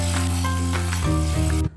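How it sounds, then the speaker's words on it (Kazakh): Electric hand mixer whirring steadily through butter, eggs and condensed milk for a milk-girl cake batter, a loud continuous motor drone with a brief shift in pitch before cutting off abruptly at the end. "Ал ендеше барлығын миксермен айналдырып аламыз."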